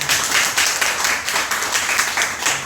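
A church congregation applauds during a Sunday worship service, a dense burst of many hands clapping in steady pulses that stays loud and close throughout.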